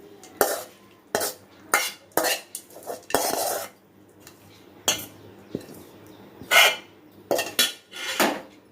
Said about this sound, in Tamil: இப்போ வந்து நம்ம இந்த வதக்கி வச்சுக்கிற வெங்காயம், கேரட்டு இதையெல்லாம் வந்து நம்ம இதில் போட்டு நல்லா கலந்துருவோம்